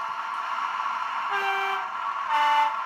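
A sound decoder in a Bachmann Network Rail DR98008 MPV model rail vehicle sounds its horn in two short toots over a steady engine drone. The toots are close and moderately loud.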